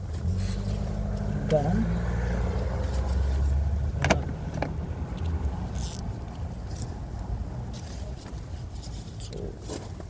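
A 2005 Suzuki Swift engine with a noisy water pump bearing idles as a low, steady hum, with a few sharp clicks and knocks and a brief word spoken over it.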